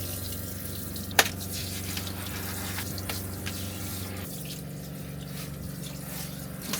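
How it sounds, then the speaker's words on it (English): Water runs steadily from a small shower in a camper van as a dog is washed, a continuous close splashing hiss with one sharp clack near the start and no talking. "Time for you to have a shower."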